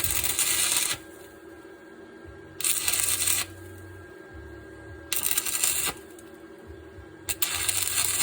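Arc welding builds up the inside of a stripped drain fill plug, with three or four loud, crackling bursts of a second or so each, separated by quieter gaps that carry a low hum.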